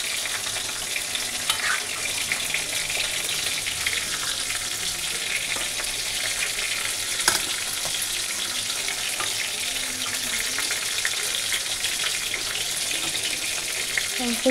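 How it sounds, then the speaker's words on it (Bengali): Fish frying in a pan in a home kitchen, a steady broadband sizzle and crackle running throughout with a few brief clinks, fairly close and continuous, with no one talking. "এখানে মাছ ভাজা বসিয়ে দিয়েছি"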